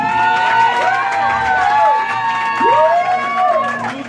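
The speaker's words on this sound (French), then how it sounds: "On peut l'applaudir, s'il vous plaît." A crowd cheers and applauds, with rising and falling voiced whoops and shouts standing out over a fainter wash of clapping and crowd noise.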